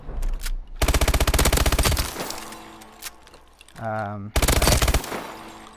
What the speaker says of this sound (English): this is the fastest firing SMG in the game